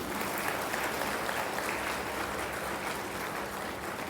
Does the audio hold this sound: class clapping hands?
yes